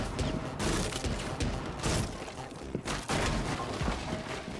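Rapid gunfire from Rainbow Six Siege keeps up as dense, loud bursts throughout, with sharp individual shots standing out over a busy, close mix.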